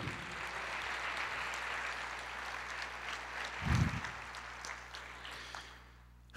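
A church congregation applauds during a Pentecost service, a soft, sustained wash of clapping that carries on for several seconds and fades toward the end, with a low thump midway.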